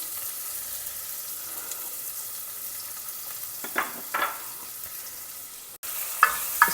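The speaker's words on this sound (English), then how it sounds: "Saute the onions in the ghee for about 2 minutes." Chopped onions sauté in ghee with roasted cumin seeds, a steady low sizzle throughout, broken by a few louder stirring scrapes and spatters near the end; no one speaks.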